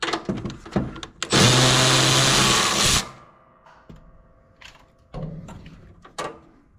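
A 10mm bolt is removed from a John Deere mower deck hanger bracket: a loud buzzing burst of a power tool lasting under two seconds, preceded and followed by clinks and tool handling, close.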